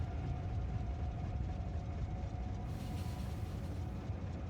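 A train running in the video game Factorio gives a steady, dense low rumble with a faint constant whine, unbroken for several seconds and fairly loud, with no voices.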